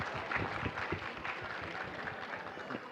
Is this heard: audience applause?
yes